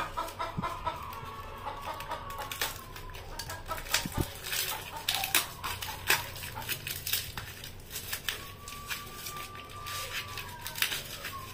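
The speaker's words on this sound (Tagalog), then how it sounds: "mga alagang manok" Chickens clucking in short, scattered bursts over steady yard noise, with a few sharp knocks and occasional longer calls; no talking.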